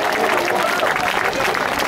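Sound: applause for the organiser at an anti-nuclear demonstration

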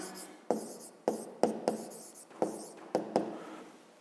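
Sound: writing down a math solution by hand

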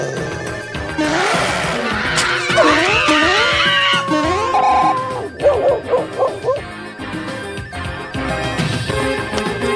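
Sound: dog barking in Super Mario Bros. 3 video game

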